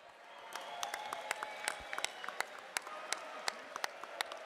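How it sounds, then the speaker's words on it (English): An arena crowd at a boxing event in Gibraltar applauds steadily. The clapping is distant and fairly faint, with a few sharper claps standing out. "Ladies and gentlemen, a round of applause for the Chief Minister of Gibraltar."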